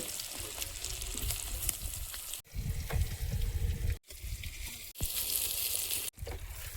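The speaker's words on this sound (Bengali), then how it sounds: "বেগুনটা একটু লবণ হলুদ মিশিয়ে ভেজে নেব তেলে" Eggplant pieces coated with salt and turmeric frying in hot oil give a steady, close sizzle, with short gaps where the pan goes quiet before the crackle resumes.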